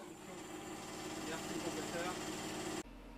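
A 2fast 90 racing engine idles while warming up, a steady loud mid-pitched hum with constant vibration that cuts off abruptly near the end.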